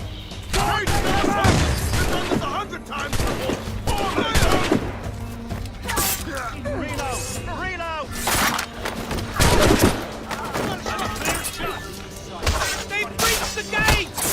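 Musket volleys crackle and boom again and again during a chaotic battle in Assassin's Creed Rogue, the bursts mixed with shouted battle commands from several voices.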